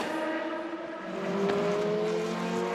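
GT race cars from TDS and Decar Engineering during qualifying at the 4 Hours of Barcelona, a steady loud engine drone with a rising pitch as the cars accelerate past.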